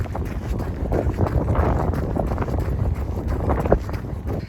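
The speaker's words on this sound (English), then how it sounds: "I hope you can hear me because it's super windy" Strong, steady wind buffeting the microphone outdoors in rainy weather, a constant low roar with gusty rumbles throughout, no voices.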